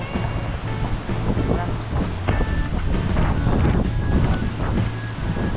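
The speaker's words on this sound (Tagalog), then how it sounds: "Sobrang lakas ng hangin." Steady, heavy wind buffets the microphone with a low roar on Boracay island at dusk, surf-like rushing in the background throughout.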